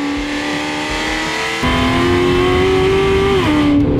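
Modified 1294 hp Fiat Multipla with wheels spinning: a loud, sustained engine roar holding a high pitch, jumping up partway through and then dropping slightly near the end.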